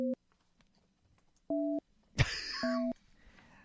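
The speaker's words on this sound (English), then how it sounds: "they had to change the dialing tones." Three short two-tone telephone dialing beeps from a Skype call, evenly spaced and clear, with a brief burst of rustling noise between the second and third.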